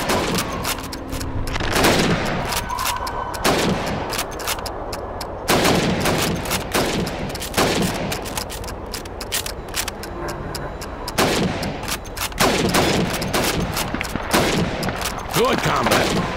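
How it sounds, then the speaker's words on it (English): Rifle shots aimed at helmets on a Call of Duty 2 training range ring out loud and close, coming in a quick irregular run of sharp cracks with short gaps, over a steady background bed and no talk. "You have 15 seconds to shoot the helmets."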